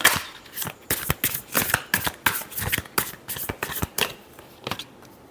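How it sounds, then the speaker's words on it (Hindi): Tarot cards shuffled by hand in quick, irregular bursts of crisp riffling and slapping, close and fairly quiet, with no talking. "Last shuffle."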